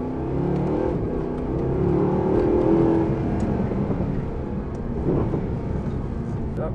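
A Mercedes-AMG SLS Black Series gull-wing coupe drives a lap of Eastern Creek Raceway. Its engine drones and swells in a low, throaty rumble, rising briefly as it accelerates, heard from inside the car with a voice talking.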